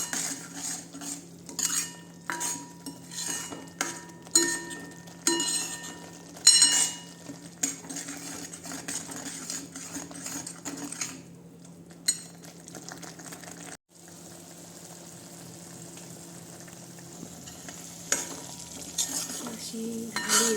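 Masala being sautéed and stirred in a pan while salt goes in, with a spoon scraping and clinking against the metal in irregular bursts over a low, soft sizzle.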